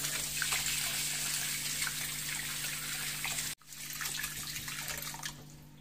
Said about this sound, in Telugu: ఏదైనా రన్నింగ్ వాటర్ కింద పెడితే చాలా నీట్గా క్లీన్ అవుతుంది